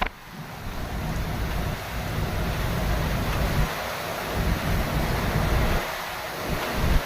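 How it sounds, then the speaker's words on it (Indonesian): Strong wind and rain storm sweeping over Merak port in Cilegon, Banten: a loud, continuous roaring gust noise with surging, wave-like swells, buffeting the microphone, with no talking. "Angin kencang disertai hujan menerjang kawasan Pelabuhan Merak, Kota Cilegon, Banten pada Jumat dini hari."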